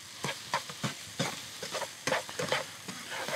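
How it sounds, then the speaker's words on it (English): A sauté mix being stirred in a hot pan, soft rhythmic scrapes and clacks repeating over a faint sizzle, close and fairly quiet, no talk. "And now you're gonna turn that heat up a little bit and just start mixing that through."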